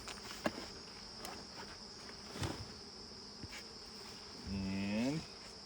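Honey bees drone continuously inside an opened beehive, a low steady hum broken by a few sharp knocks and handling sounds, with one brief louder swelling tone near the end.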